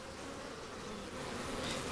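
Honey bees swarm around an opened beehive during beekeeping work, giving a dense, steady, close buzz that holds without a break, with no talk over it.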